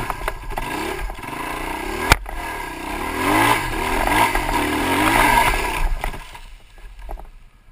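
Dirt bike on a single-track ORV trail in Michigan, the engine revving hard with too much throttle through a curve and up a hill, a loud rising and falling roar with a sharp clatter partway through.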